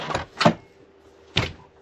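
A door on a converted van's living interior is opened and checked by a stop fitted to keep it from banging: two quick close knocks, a pause, then a third sharp thud.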